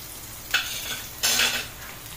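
Egg omelette mixture frying in coconut oil in a pan, with two bursts of bright sizzle and scraping as it is stirred, and a quieter hiss between them, no voices.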